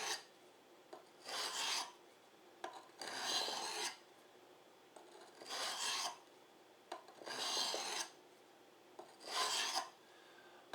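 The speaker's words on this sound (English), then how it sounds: "you want to go ahead and do your regular sharpening motion over across to harmonize the edge" A knife blade is drawn across a coarse sharpening stone in five separate rasping strokes, each about a second long and close-up, with short quiet gaps between them.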